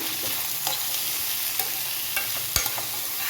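Onions frying in a pan with salt for a chicken curry, a steady close sizzle broken by scraping stirs and a few sharp clinks of the spoon against the pan, with no voices.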